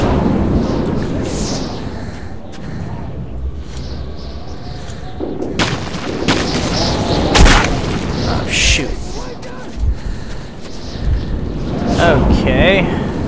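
A grenade blast in the shooter Metro 2033 booms loudly, followed by rumbling blasts, gunfire and chaotic in-game noise, with a player talking over the action.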